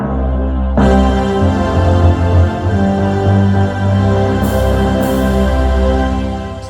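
Full orchestral tutti voice on an electronic keyboard plays a grand, stately song example with sustained chords and a steady melody, loud and unbroken throughout, with no talking.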